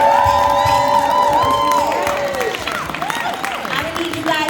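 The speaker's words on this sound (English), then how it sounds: "I'm gonna need you guys to clap it up just a little bit more." A crowd at a cancer and wellness expo claps and cheers loudly, with whoops and high shouts over dense sustained applause while voices talk through it.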